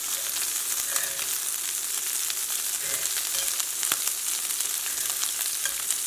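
Shrimp fry in a pan for crispy shrimp tacos, giving a steady, close sizzling hiss dotted with sharp little pops and crackles and a few faint utensil clicks.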